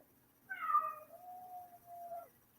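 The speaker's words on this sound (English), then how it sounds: "Started making that sad little meow noise." A house cat gives one drawn-out, plaintive meow, rising sharply and then holding a long, thin wavering tone before trailing off, heard close and alone over a quiet room background.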